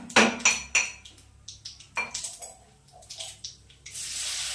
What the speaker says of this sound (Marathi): थोडं लसूण कुटून घेते मी.